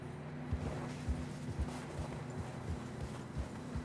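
Steady clip-clop of horse hooves at a walking pace through fresh snow, fairly close, over a low rumbling background hum, in Red Dead Redemption 2.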